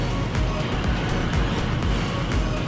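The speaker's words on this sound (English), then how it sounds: "We are in a Texas thunder storm." A Texas thunderstorm lashes a parked car with heavy rain and gusting wind, producing a dense, continuous roar and drumming on the vehicle, loud and close throughout, with brief muffled voices mixed in.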